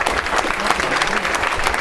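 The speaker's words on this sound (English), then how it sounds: "Let's give them a round of applause." A rally crowd claps loudly and densely at a campaign event, the applause continuous and close throughout, with a few voices mixed in.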